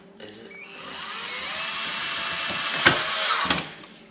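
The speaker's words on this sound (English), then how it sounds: "I like a woman with her drill." A handheld power drill whirs steadily at close range for several seconds, briefly revving and easing off near the end, during repair work on a rental vacation home.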